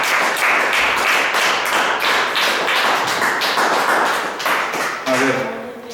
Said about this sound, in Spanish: Dele otro aplauso al Señor Jesucristo.